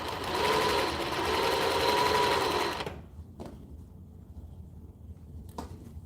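Sewing machine stitching close by in a steady, fast run for about three seconds, then stopping, leaving a quiet room with a couple of faint knocks.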